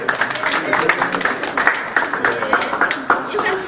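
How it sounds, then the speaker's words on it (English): Audience applause at a university international conference, a steady mass of hand claps filling the room with loud, dense rhythm, voices mixed in underneath. "Kindly let us clap."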